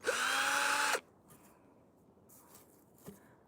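A power drill runs loud and steady for about a second, its high motor whine cutting off abruptly, followed by faint handling noises and a soft knock during treehouse construction.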